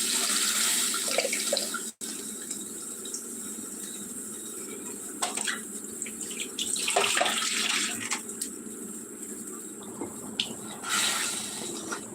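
Water pours into a pot of tamarind fish curry being made at home, a steady running, splashing stream lasting several seconds with brief surges and no talk over it.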